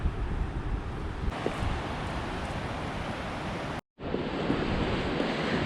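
The Tortum waterfall in Erzurum, Turkey roars continuously, steady rushing water, broad and noisy, with a brief cut to silence near the end before the roar resumes.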